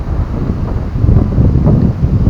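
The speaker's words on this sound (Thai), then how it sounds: "โอ้ลมแรงครับ" Strong wind after Storm Noul buffeting the microphone in an orchard, a steady low roar that gusts louder partway through, with no voices.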